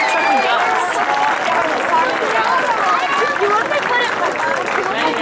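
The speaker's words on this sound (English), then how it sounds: "Let's give them a round of applause." A crowd in the stands at halftime of a Monroe Central high school football game claps and cheers, loud and close, mixed with dense crowd chatter and voices talking over it.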